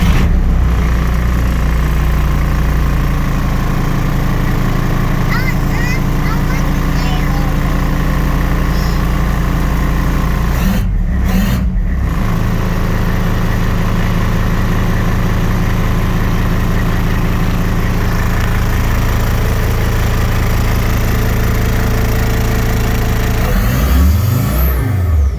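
A diesel-swapped Jeep with an AW4 automatic idles in a steady, loud, low rumble. The engine briefly cuts out around the midpoint, then picks up again and revs toward the end.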